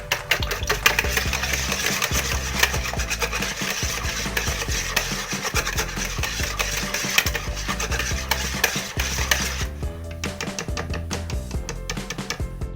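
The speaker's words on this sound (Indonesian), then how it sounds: "Kemudian aku kocok lepas telurnya" Eggs beaten by hand with a utensil in a bowl while making steamed Roma coconut cake, a rapid, steady rhythmic clatter and scraping that runs continuously and closely, with no talking.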